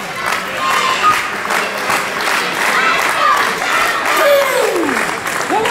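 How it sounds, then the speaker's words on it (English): A wrestling arena crowd roars and applauds steadily for Steve Scott during his match against Randy Summers. The noise is loud and continuous, with whistles rising over the cheering. "This crowd coming alive for Steve Scott"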